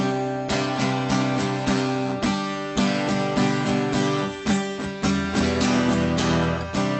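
Acoustic guitar chords strummed in a steady rhythm, with repeated sharp attacks and ringing harmonics, played alone and close up.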